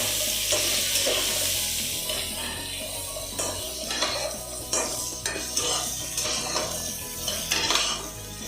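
Cut potatoes fry in a pan while a spoon stirs and scrapes the metal. Irregular clanks and scrapes ride over a continuous sizzle, close and loud, with no talk.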